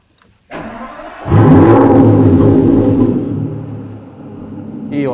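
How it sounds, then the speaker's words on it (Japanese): An Aston Martin Vanquish engine cranks and catches, then revs up loudly and settles into a steady idle rumble close by. "エンジンかけちゃいます。"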